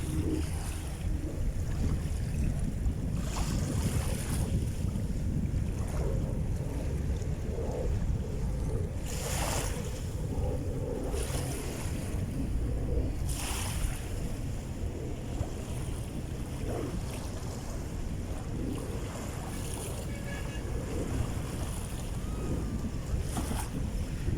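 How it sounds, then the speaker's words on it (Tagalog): Strong wind sweeps across Manila Bay's dolomite beach, a constant rushing buffet on the microphone with a few louder gusts over faint surf wash. "Kaya sa vlog natin maririnig nyo po yung kaluskos ng hangin"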